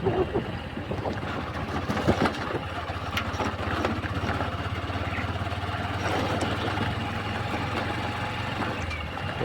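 A motorbike carries its riders along the road toward Bhavnagar, the engine giving a steady low drone with rushing wind noise and a few bumps and clatters over the ride.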